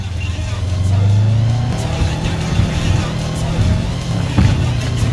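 Car in the Cyberpunk 2077 video game driving with a steady low engine drone that rises and falls as it revs, loud and close, with road rumble and occasional knocks underneath.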